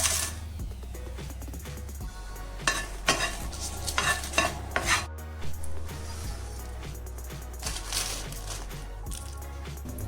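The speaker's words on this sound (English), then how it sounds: "Now we will fry the red chilies." Red chilies frying and being stirred in a pan for a spicy lentil powder, with crackling sizzle and scraping stir strokes, some louder bursts, and a low steady hum beneath.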